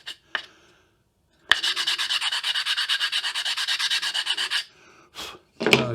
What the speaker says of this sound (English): I'll sand it anyway. Right. Make sure it's nice and flat.